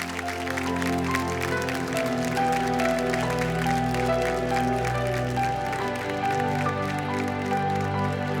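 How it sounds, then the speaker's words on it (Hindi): Studio audience applause for a folk singer on a televised folk singing reality show: steady, dense clapping that holds for the whole stretch, with a tonal musical backing running beneath it. "एक बार जोरदार तालियां इनके लिए बजा दीजिए"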